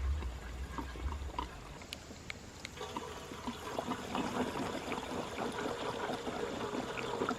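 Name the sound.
gasoline poured from a safety can into the generator tank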